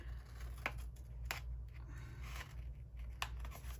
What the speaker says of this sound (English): You'll see me switch in and out with scissors